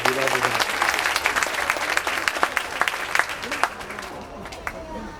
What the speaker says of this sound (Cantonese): 再累積一下你嘅掌聲喎